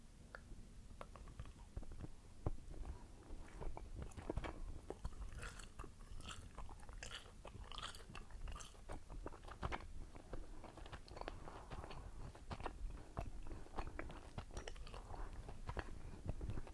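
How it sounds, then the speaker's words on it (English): Trident mint gum is chewed close to the microphone, giving a steady run of wet, sticky smacks and soft crunchy clicks in an even rhythm with no talking. "Today I'm doing some Trident. Just mint gum."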